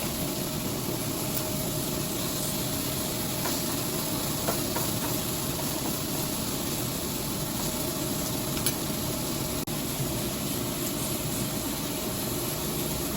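A pressure cooker of chicken on a home stove vents its pressure as a steady, close, continuous hiss of escaping steam, unbroken and even in loudness.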